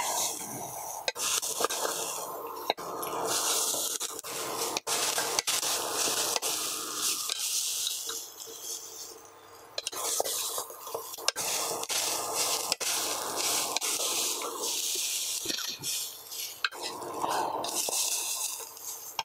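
Finely chopped beetroot palya fries in a pan with a loud, dense sizzle, broken by sharp scraping and stirring knocks throughout.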